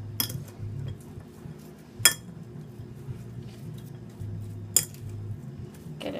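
Spoon stirring coleslaw dressing with a squeeze of lemon juice in a bowl, three sharp clinks against the dish standing out over soft, steady scraping and low background hum.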